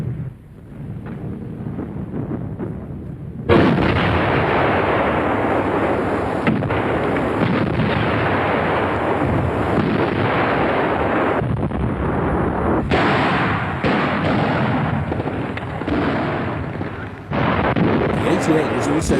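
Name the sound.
German 88mm gun firing in artillery role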